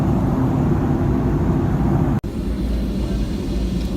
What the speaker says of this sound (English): Alright, so it's almost takeoff, so we're just going onto the runway.